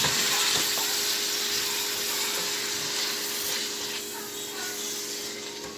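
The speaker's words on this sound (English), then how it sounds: "So I'm sauteing them now to get like a translucent color." Onions sauté in a pan over turned-down heat with a steady, close sizzle and hiss that slowly quietens.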